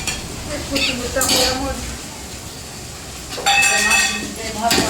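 Green chili, onion, coriander and curry leaves frying in a pan while being stirred, a steady close sizzle with repeated scraping strokes and a louder burst of stirring near the end.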